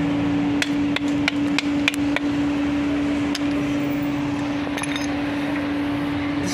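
Hammer blows on worn caravan brake shoes, a series of sharp metallic knocks in irregular rhythm, loud and close, over a steady mechanical hum, with the strikes thinning out toward the end.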